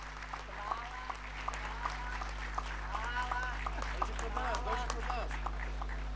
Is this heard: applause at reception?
yes